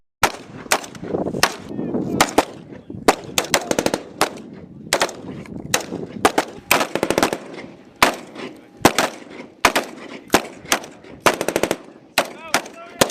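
Gunfire exchanged between police and bandits during an armed operation, with repeated sharp bursts of automatic fire and single shots ringing out over about thirteen seconds, some near and loud, others more distant.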